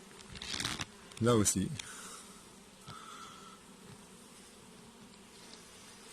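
A dense swarm of about 50,000 honeybees buzzing steadily close by at an open hive, with a brief voice speaking over the hum near the start.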